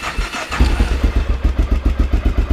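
A 2000 Honda XR650L motorcycle with a TM40-6 carburetor cranks and fires up, settling into a loud, close, rhythmic single-cylinder idle thump outdoors in chilly air.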